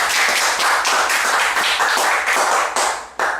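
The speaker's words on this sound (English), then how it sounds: "Congratulations, round of applause for that" Audience applause at a 2013 CSEC graduation ceremony, a dense, steady wash of many hands clapping close and loud for the full stretch, with a few sharper individual claps near the end.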